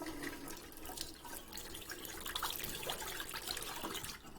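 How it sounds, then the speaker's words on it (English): Water runs from a newly replaced faucet into a sink, a quiet steady splashing and trickle that continues throughout. "See if the water works. The hot's coming out good."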